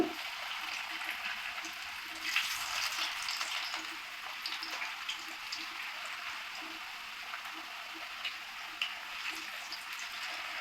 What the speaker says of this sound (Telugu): మీడియం ఫ్లేమ్లో దీన్ని ఫ్రై చేసుకుందాం